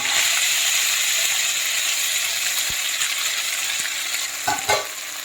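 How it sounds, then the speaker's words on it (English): Steady, loud sizzle of chicken noodles pan-frying in a hot pan fills the whole clip, with a couple of brief scraping or clinking sounds near the end. "We're going to repeat the same process of frying the noodles on the other side even."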